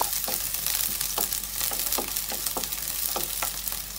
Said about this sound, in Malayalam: നന്നായി വഴറ്റിയെടുക്കാം നമുക്കിതിനെ.